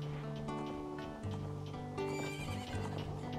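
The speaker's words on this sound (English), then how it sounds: "That's my horse, by the way." A horse in the video game Zelda: Majora's Mask lets out a bright, wavering neigh over clip-clopping hooves and ranch background music, the whinny rising and falling over a few seconds.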